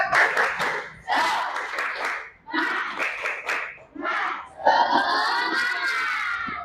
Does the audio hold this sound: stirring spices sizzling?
no